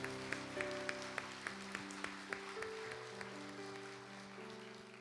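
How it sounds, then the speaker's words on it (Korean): A church congregation at a praise worship concert claps in a steady rhythm along with soft sustained keyboard music; the claps are faint and evenly spaced. "다시 한번 주님께 박수하겠습니다."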